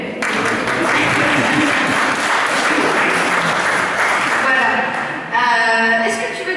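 An audience at a talk applauds Virginie with sustained, dense clapping that fills the room for several seconds before tapering, with voices mixed in near the end.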